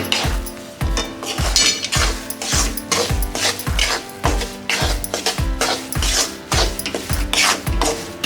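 A spoon stirring besan laddu mixture with ghee and cardamom powder in a metal pan, making steady rhythmic scraping and clinking strokes, loud and close, about twice per second.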